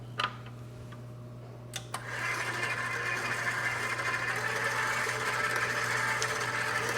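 A bakery mixer kneads pain au levain dough made from white, wheat and rye flours at low speed, a low steady motor hum with rhythmic ticking that starts after a few quiet clicks and continues evenly.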